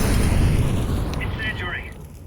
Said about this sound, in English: Here's Throwing a grenade.